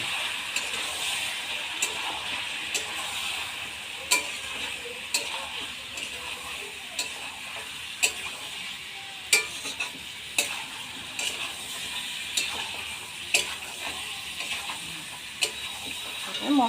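Meat is stir-fried with turmeric and chili powder in a pan for a home-style meat curry. A steady sizzle runs throughout, cut by regular scraping strokes of the spoon about once a second.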